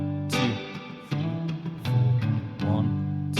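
An electric guitar plays a rhythm pattern, with muted bass and snare-like strums leading into short licks on the third and fourth beats. The clearly plucked notes sound close and fairly loud, with no voice over them.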